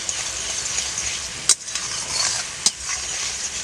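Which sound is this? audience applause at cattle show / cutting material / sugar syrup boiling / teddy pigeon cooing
sugar syrup boiling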